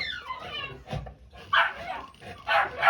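A pet dog gives short barks and high whimpering yips in bursts, close and fairly loud, amid some vocal noise.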